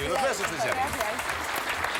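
A television game show studio audience applauds for winning contestants, continuous clapping under a host's voice speaking over it.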